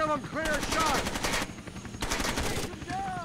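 Rapid automatic gunfire in the video game Tom Clancy's Rainbow Six Vegas 2, two dense bursts of shots mixed with a player talking over them.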